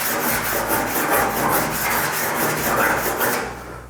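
A hand file rubbing back and forth over a welded steel front panel on a Ford Falcon, a steady run of rasping strokes, close and loud, with no talk.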